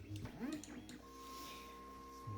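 A Tronxy X1 3D printer homes its axes, with a thin steady stepper-motor whine holding for over a second after someone speaks briefly, close and fairly quiet.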